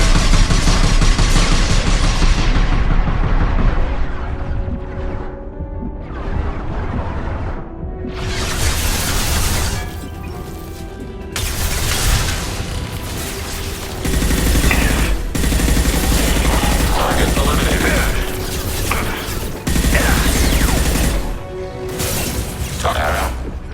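Turret fire in the video game Mass Effect 2 roars in loud, continuous bursts of rapid gunshots and crashing impacts, with brief lulls between barrages.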